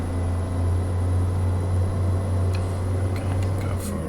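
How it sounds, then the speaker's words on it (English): A Cummins N14 525 hp truck engine hauls heavy cargo uphill in American Truck Simulator, giving a loud, steady low drone with a constant deep rumble throughout and no talk over it. "It's a fairly powerful engine, but we still have to plan our gear changes pretty well."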